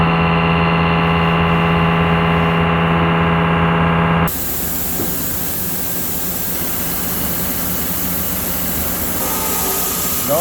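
A Mighty Pro 1000 AG CNC vertical machining center with a Fanuc 18i control cuts dry with an air blast, a loud steady roar of spindle whine and hissing air that shifts abruptly partway through to a broader rushing noise.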